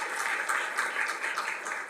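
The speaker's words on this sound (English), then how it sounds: "hold the applause" Brief burst of applause from the audience at a special city council meeting, a steady patter of many hands clapping at moderate volume in a hall.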